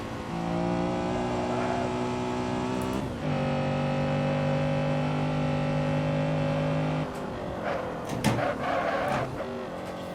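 A 1991 Honda Civic Si-R EG6 laps Zandvoort in the Assetto Corsa sim. Its engine drones steadily and loudly for several seconds, the pitch drops at a gear change, and the drone continues before fading near the end with a few clunks.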